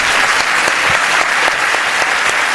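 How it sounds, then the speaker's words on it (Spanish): An audience at a talk on ufology breaks into loud, steady applause, a dense wash of many hands clapping close and continuous throughout, with no talking over it. "¿A qué le dan ustedes ese aplauso?"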